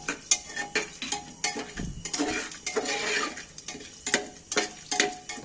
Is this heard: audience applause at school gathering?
no